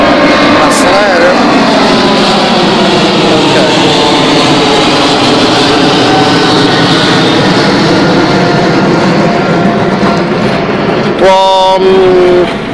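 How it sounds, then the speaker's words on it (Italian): A loud, steady engine roar fills the scene as an airplane passes overhead above a gas-emitting geyser in Rome, with a brief tonal burst near the end. "Passa l'aereo."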